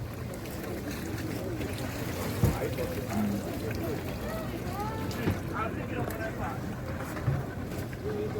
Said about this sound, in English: See all those boats? Some going out,